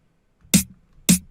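Two punchy processed snare hits with boosted tone and effects, sharp bright cracks with a solid low body, played alone about half a second apart.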